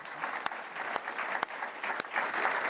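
Applause from an audience at a cycling team presentation for Team SD Worx - Protime, honoring the riders and staff, sustained and fairly close, with a few sharper individual claps standing out over the steady patter.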